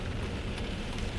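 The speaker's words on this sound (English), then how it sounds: "It is a rainy day here in Chicagoland." Steady rain on a rainy day in the Chicago area, a continuous even patter and hiss of drops falling on surfaces, fairly close with no voices.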